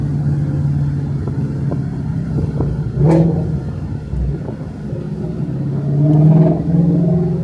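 Loud Ford Mustang Shelby GT350R stock exhaust with valves open rumbles and snarls, with sharp revving bursts and crackles between stretches of steady, deep engine drone.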